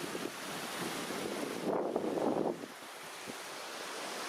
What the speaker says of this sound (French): Des cascades. Juste à côté, le ruisseau qui passe,